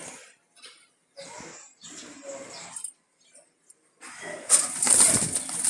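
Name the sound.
pigeons cooing and flapping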